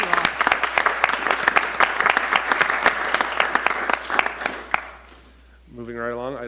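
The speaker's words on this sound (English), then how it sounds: "Let's give a round of applause to Katie and her team." Applause at a town council meeting, a dense, steady patter of many hands clapping for several seconds before fading out, followed by a brief voice.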